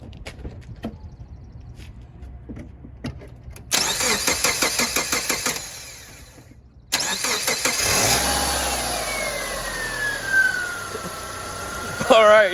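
A car engine whirs through a couple of seconds of rhythmic starter cranking, pauses briefly, then cranks again and catches, settling into a loud, steady running rumble with a slight rise in revs near the end.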